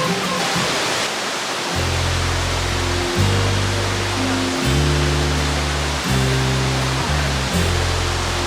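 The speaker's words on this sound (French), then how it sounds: "Là on voit la cascade un peu là." Waterfall in a forest in Ireland, a constant loud broadband rush of falling water with a steady roar, accompanied by a low sustained musical drone underneath and no talk.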